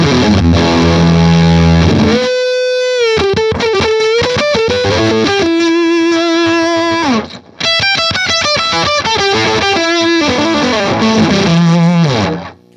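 Octa Tron guitar pedal with its octave effect engaged, producing thick, distorted, synth-like sustained notes and riffs, loud and continuous apart from a brief gap near the middle.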